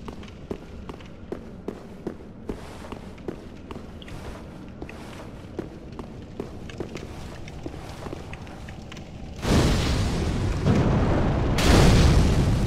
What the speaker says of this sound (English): So, fire orb.